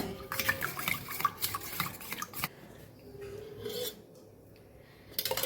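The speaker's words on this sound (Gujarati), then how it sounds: "અડધી ચમચી જેટલું ધાણા જીરું પાવડર અડધી ચમચી જેટલી હળદર આ બધું સરસ આપણે મિક્સ કરી લેવાનું છે" A spoon mixes coriander-cumin powder and turmeric in a bowl, producing close, faint scraping and clinking strokes in short bursts, with a quieter pause in the middle.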